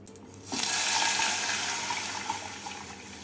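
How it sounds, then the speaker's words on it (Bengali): Milk, one litre, pours steadily into a pan of melted ghee on a gas stove, a continuous splashing liquid rush that starts abruptly and carries on at a fairly loud, close level. "এর মধ্যে আমি দিয়ে দেবো এক লিটার দুধ"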